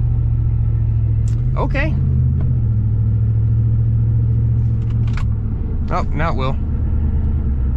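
A car driven after a transmission install gives a steady low engine rumble throughout, heard from inside the cabin, with someone talking briefly over it.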